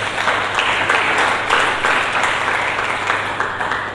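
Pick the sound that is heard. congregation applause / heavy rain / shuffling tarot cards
congregation applause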